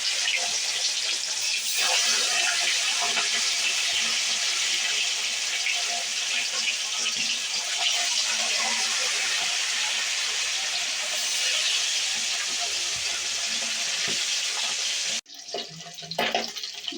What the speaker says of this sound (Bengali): এবার আমি কড়াইতে তেল দিয়েছিলাম, তেলটা গরম হয়ে গেছে। এবার আমি মাছ ছাড়বো একটা একটা করে